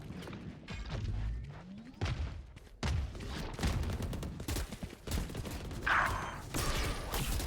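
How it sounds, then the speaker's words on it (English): A missile launches during a video game played at a tournament, amid a dense run of gunfire-like bursts, booms and thuds that keep going without a break and sound loud and close. "Missile deployed."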